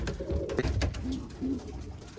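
Birmingham Roller pigeons in a loft give soft, low cooing calls, a couple of short murmuring coos close by over a rumbling background.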